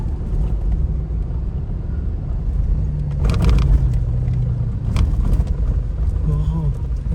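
A vehicle on a desert safari in Qatar climbs up sand dunes, its engine a steady low rumble that swells and strains at times, with people talking over it throughout.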